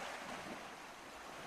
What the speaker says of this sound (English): water creeps over Arctic shores like an overflowing bathtub